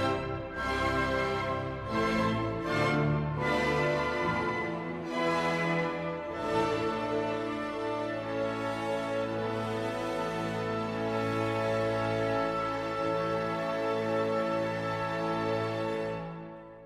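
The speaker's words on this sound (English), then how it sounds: "that quiet woodwind part that came in is the middle section of it" An orchestra plays a sustained, flowing theme, with soft woodwinds carrying a gentle melody over rich string harmonies.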